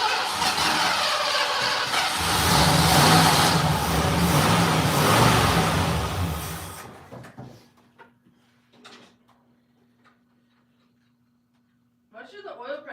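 A car engine running loud and steady with a surge of revving, then abruptly cut off, leaving a faint hum, scattered clicks and a short burst of nearby voices at the end.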